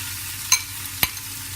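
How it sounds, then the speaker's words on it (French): Chopped onion frying in olive oil in a heated pot for a stuffed vegetable dish, a steady faint sizzle broken by two short, sharp stirring clicks from a spoon against the pot. "Et je dépose l'huile d'olive. Je rajoute la moitié de l'oignon haché."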